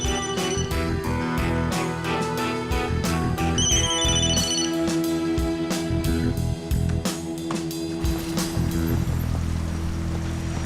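A ringtone plays steadily throughout amid a dense musical score in a Turkish TV drama scene, with a brief high electronic trill in the middle and no voices.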